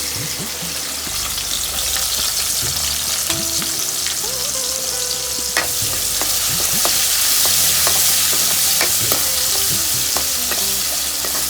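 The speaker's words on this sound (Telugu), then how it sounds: "తర్వాత ఇవి కట్ చేసుకున్నాం ఉల్లిగడ్డలు, ఇవి కూడా వేసుకుందాం." Chopped onions sizzle loudly in hot oil with cumin, mustard seeds and lentils, a steady dense frying hiss with occasional stirring scrapes throughout.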